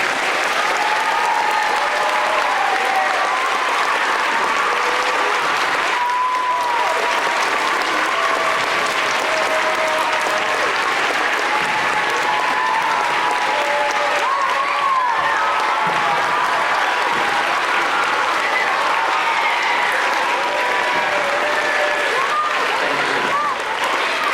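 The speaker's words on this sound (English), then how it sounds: "let's give them a big round of applause" Sustained loud applause from a school assembly audience honoring veterans at Festus Intermediate School, steady dense clapping with crowd noise filling the whole stretch without a break.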